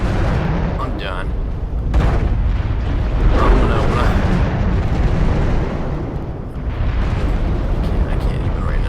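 Missile explosions in the MechWarrior Online video game around a Mauler mech, a loud, continuous barrage of rumbling blasts and bursts that swell and overlap with little pause.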